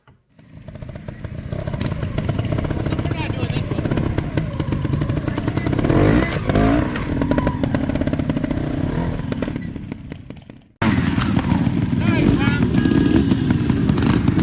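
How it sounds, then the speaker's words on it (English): A trials motorcycle at a riding park in North Carolina runs loud and steady up close, its engine rising in a throttle blip with some clatter, then cutting abruptly to a different, harsher engine sound near the end. "There's just one blip of the throttle, no clutch, and you can see that rear tire lifting like crazy."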